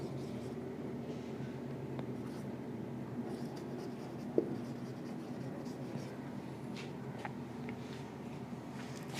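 Notes handwritten with a pen on paper during a Class 11 biology lesson on arthropods: faint, continuous scratchy strokes close by, in a quiet room with no talking.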